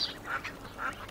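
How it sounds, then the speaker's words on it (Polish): A few soft, raspy duck quacks close by, spaced out over a moment, from ducks sitting under a cage, with no talking. "Co tak kwacze?"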